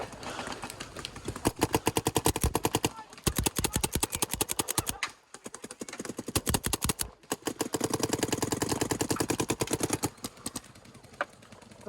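Paintball guns firing during a paintball game, rapid bursts of sharp pops in quick rhythmic strings, near and loud, with brief pauses between volleys.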